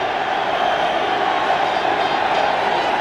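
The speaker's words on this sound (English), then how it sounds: "The Eagle crowd getting into this here, exhorting their defense." Eagles home crowd at a 1992 Giants–Eagles football game roaring steadily and loudly, a dense sustained wash of cheering with no breaks, close and filling the whole stretch.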